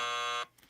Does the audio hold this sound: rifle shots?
no